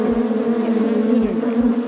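Honey bees hum in a dense, steady drone around a first-year hive in Alaska, loud and close throughout, with a few soft low bumps beneath and no talking.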